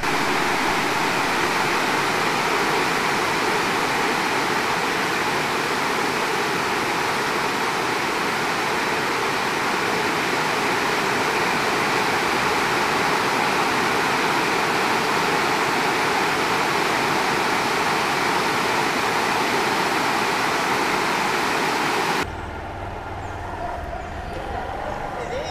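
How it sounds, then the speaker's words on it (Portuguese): Heavy rain falls on a rural stretch of the Cerrado in Mato Grosso during a motorcycle day trip, a dense, unbroken hiss for more than twenty seconds before it suddenly drops to a quieter background. "nos protegendo aqui da chuva"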